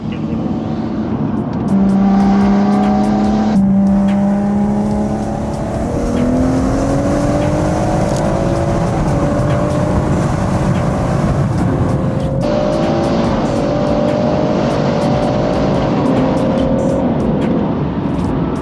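A track-spec BMW M140i accelerates hard on a race track, its engine note climbing steadily through the gears with brief dips at each upshift, loud and continuous from inside the car with no talking.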